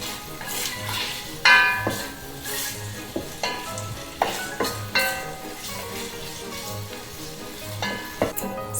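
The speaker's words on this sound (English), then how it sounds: "I've been cooking these onions" Onions for Hungarian goulash fry in a pan with a steady close sizzle, while a spoon stirs and scrapes against the pan in repeated sharp knocks and clinks. No one speaks.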